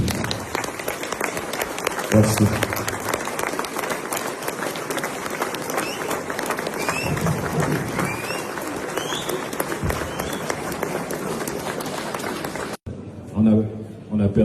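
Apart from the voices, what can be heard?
crowd applause in memory of a rapper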